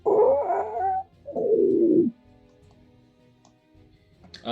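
A human voice imitates a creature howling during a fantasy tabletop role-playing game, with two drawn-out, falling howls close to the microphone, followed by near quiet.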